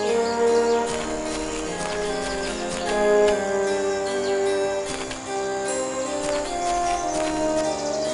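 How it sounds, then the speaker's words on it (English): Horses clip-clopping in the video game Might and Magic VI, a steady rhythmic hoof patter woven into dense game music that plays throughout. "Hitch up the horses."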